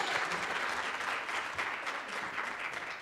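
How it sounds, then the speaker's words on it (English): A panel audience gives a short, dense burst of steady applause to welcome a presenter, an author and poet. "So we'll give him a round of applause with Scott Woods."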